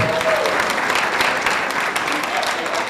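A comedy club crowd claps for host Rocky Cusseaux, the comic, in a thick, even burst of applause that stays loud and close for the whole stretch before easing slightly at the end.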